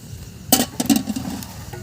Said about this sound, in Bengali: এখন এই পিঠেগুলো আমরা জাল দেওয়া দুধের মধ্যে দিয়ে দেব